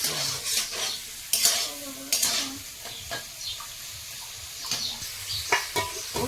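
Whole cumin seeds and prawns frying in hot oil, a constant close sizzle broken by sharp clinks and scrapes of a metal spatula against the pan as it's stirred.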